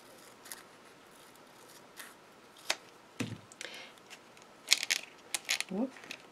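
Scissors snipping through double-sided mounting tape while making a shaker card, a few short crisp cuts scattered through a quiet room with light handling noise.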